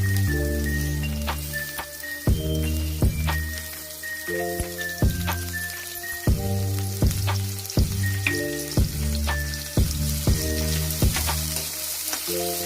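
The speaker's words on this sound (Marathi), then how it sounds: "आता आपण कांदा एकदम शिजवून घ्यायचा आहे, परतून घ्यायचा आहे कांदा।" Chopped onions sizzle in a pan for chicken curry with a steady crackling fry, punctuated at intervals by sharp knocks of a utensil stirring against the pan, and no talk over it.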